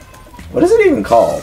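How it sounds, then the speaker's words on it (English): A cat lets out a drawn-out, wavering howl while a person speaks over it. "One of our cats howling."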